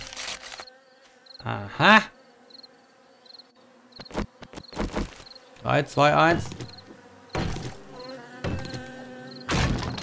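Bees buzz around a queen bee in the video game 7 Days to Die with a steady, close insect drone. Someone speaks briefly and sharp game effects burst in at intervals.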